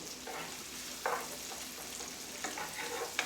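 Onions fry in a pan for a steak dinner, with a steady close sizzle broken by a few brief scraping stirs.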